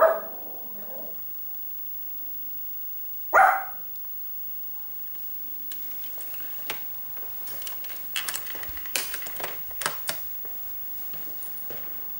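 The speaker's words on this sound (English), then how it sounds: "the blinging dog barked and scared the living daylights out of me" A dog barks once, a single loud sharp burst standing out against a quiet room with faint clicks and taps from computer keys around it.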